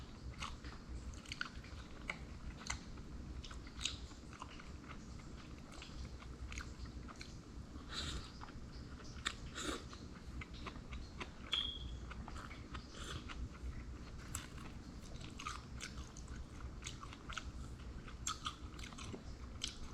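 Crispy fried kabasi fish is chewed close up for a long stretch. Wet, crunchy bites and steady mastication repeat in an uneven rhythm, with no talking.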